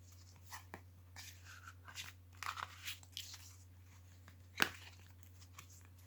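Ancient Egyptian Tarot cards being shuffled by hand: faint, scattered papery crinkles and soft riffles come in short bursts, with one sharper snap near the end, quiet and close over a low steady hum.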